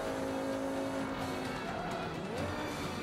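A race car in the video game Forza Motorsport 5 on Xbox One roars continuously mid-lap, engine tone held steady and then shifting as tires squeal briefly through a corner, loud and close with no talk.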